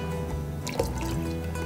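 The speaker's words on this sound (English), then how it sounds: "we're gonna go ahead and add it into our extra virgin olive oil" Hot melted coconut oil and shea butter poured into extra virgin olive oil for soap making, giving a quiet, soft dripping trickle that runs steadily for under two seconds.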